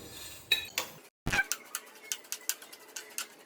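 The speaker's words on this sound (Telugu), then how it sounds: "సేమియాలు బాగా వేయించుకోవాలి." Quick clinks and scrapes of a spoon stirring vermicelli frying in a pan for semiya upma, a brisk irregular run of metallic taps with a short pause early on.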